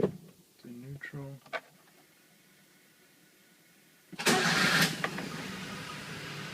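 A Daihatsu Hijet makes a cold start: a voice speaks briefly, a quiet pause follows, then the engine cranks and catches into a loud, steady idle close by.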